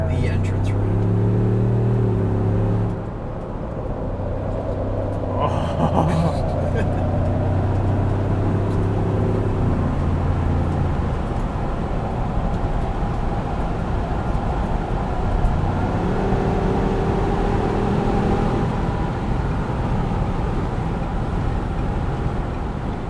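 A 2021 Ford Bronco Wildtrak 4-door soft top accelerates up an entrance ramp, its engine droning loudly with rising and falling harmonic tones under steady road and wind noise, while people talk over it.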